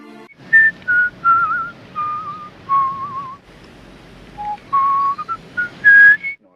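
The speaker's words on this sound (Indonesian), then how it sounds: "berusaha agar bisa bersiul seperti rekan kerjanya yang lain." A woman whistles a halting tune of short, wavering notes with brief pauses between phrases, clear and close with quiet background.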